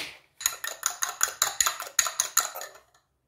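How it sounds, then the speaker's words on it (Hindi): Eggs beaten with a whisk in a mixing bowl for pancake batter, giving about ten quick, evenly spaced metallic clinks against the bowl, close and clear with no talking, then silence. "अंडे को फेंट लेंगे अच्छे तरीके से"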